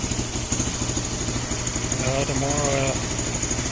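A 2022 Lifan KPX 250 motorcycle idles with a steady, lumpy putter close by, while a person talks over it.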